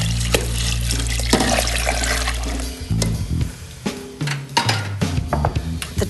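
Salt brine for a turkey poured from one container into another mixture, a steady loud splashing stream for a few seconds that breaks into irregular gurgles, sloshes and drips as the pour ends, close up with no voices.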